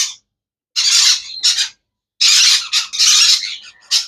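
Pineapple and blue conure parrots squawking, a series of loud harsh close bursts separated by short silences.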